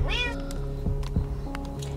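A kitten cries from 43 feet down a water well, a clear rising meow at the start followed by fainter mews, echoing against a steady hum.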